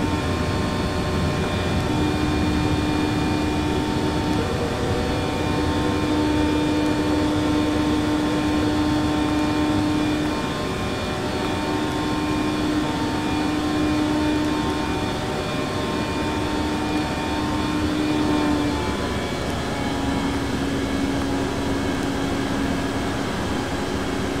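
An aircraft climbs out after takeoff from Chicago Midway, heard from inside as a steady, loud engine drone with sustained tonal whines that hold for the whole stretch, and no talk over it.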